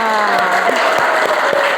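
A classroom audience gives a round of applause, a loud, dense spread of hand claps running steadily for under two seconds, with a voice faintly audible over it.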